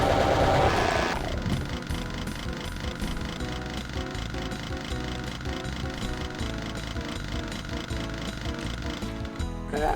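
A chainsaw runs in the video game Doom with a loud, continuous, rattling mechanical drone that holds for nearly the whole stretch after an initial burst.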